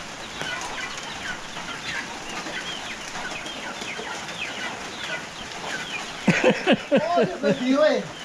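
Chickens cluck softly throughout against a steady outdoor background, then a burst of louder, closer clucks and squawks comes in the last two seconds.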